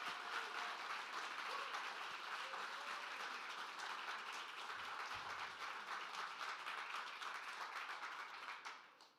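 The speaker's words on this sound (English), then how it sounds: "So give our finalists a round of applause." Sustained audience applause for the finalists of an entrepreneurship innovation challenge, a dense wash of many hands clapping at steady volume for about nine seconds before fading out at the end.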